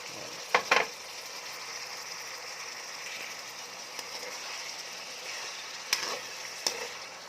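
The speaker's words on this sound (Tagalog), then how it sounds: "lagay na natin yung ating carrots. Tapos haluin na natin." Sayote and carrots fry in a pan for gisado with sotanghon, a low steady sizzle broken by a few sharp scraping clacks of a spatula stirring, quiet and close with no talk.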